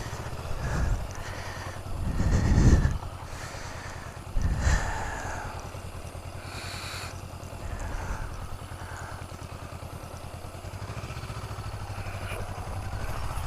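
Honda Rebel 500 motorcycle riding twisty roads near Sisters, Oregon, a steady low engine drone with wind buffeting swelling loud in a few bursts, no talk.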